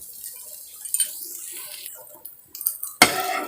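A metal spatula scrapes and clinks against a pan while egg bhujiya is stirred, with scattered soft scraping then a sharper knock near the end, close and fairly quiet.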